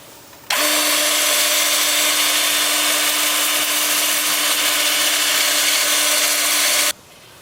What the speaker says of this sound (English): Then I'll use this with the lathe spinning at about 350.